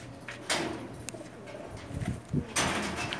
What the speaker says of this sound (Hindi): बुरा मना रहा है कबूतर हाथ में पकड़े हुए।